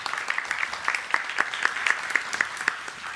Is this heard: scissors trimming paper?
no